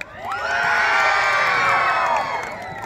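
An outdoor Assamese cultural stage show crowd erupts in loud, sustained cheering and whooping with high shouts, building quickly and fading toward the end, with clapping mixed in.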